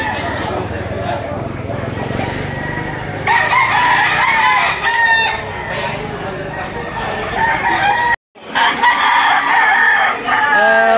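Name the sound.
chickens and roosters crowing at Lipa poultry auction market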